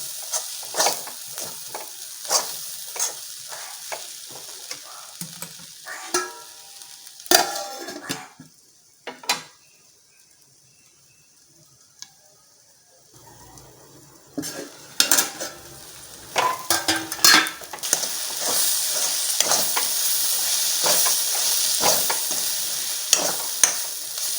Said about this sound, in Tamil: இதை கிண்டி கிண்டி விடுவோம்